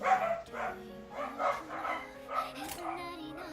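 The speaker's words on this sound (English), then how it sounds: "Dogs." Dogs bark and yip in a short run of repeated calls, moderately loud, with a whimpering quality, alongside voice-like sounds.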